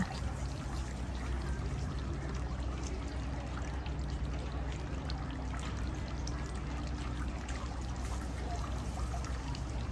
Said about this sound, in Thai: ตักน้ำขึ้นมา ล้างมือซ้ายก่อน แล้วล้างมือขวาค่ะ